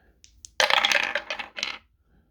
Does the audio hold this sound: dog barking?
no